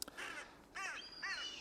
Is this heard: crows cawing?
yes